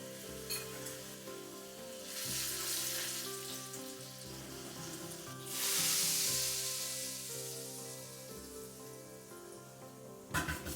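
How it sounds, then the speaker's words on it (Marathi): Golden-browned garlic and red chili powder sizzle in oil after the gas is switched off, making a steady, soft crackling hiss that swells twice, alone and fairly close. "आता लसूण थोडासा गोल्डन ब्राऊन झाला की गॅस बंद करून मी यात रेड चिली पावडर टाकून घेतेय."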